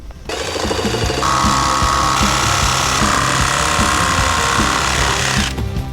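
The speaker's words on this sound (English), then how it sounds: "So let's go ahead and grab a saw and cut these, cut the hole out." A power saw cutting a hole in a fiberglass C5 Corvette hood for a Callaway Honker shroud, a steady, loud buzzing rasp that runs nearly six seconds with a rapid chattering rhythm, no voices.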